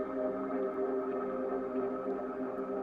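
A granular, atmospheric guitar patch from Fracture Sounds' Hemisphere library (the Kinesis preset) holds as a steady, shimmering textured drone, soft and sustained with no distinct attacks.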